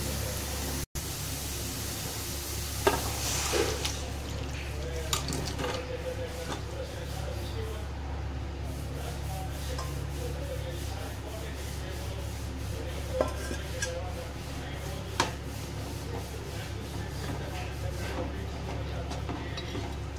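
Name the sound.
stirring chicken into masala in a pan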